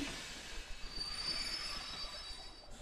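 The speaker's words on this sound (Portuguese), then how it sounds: "É o trem pra Disney" Train wheels squealing in the Kingdom Hearts 2 video game: a steady, loud high-pitched metallic screech sustained throughout over a rumbling rail noise, with no voices.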